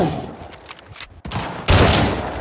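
Gunfire in the video game Arena Breakout: loud, close bursts of rapid automatic shots, a brief pause, then a heavier sustained volley, with no speech.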